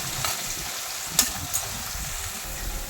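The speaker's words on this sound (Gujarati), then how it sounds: "આપણે ડુંગળીને હલકી એવી સાતળી લઈશું, થોડોક કલર બદલી જાય ને બ્રાઉન જેવો થઈ જાય એટલે।" Finely chopped onions sautéing in hot oil in a pan, a continuous soft sizzle with occasional stirring scrapes and small pops, close and steady with no talk.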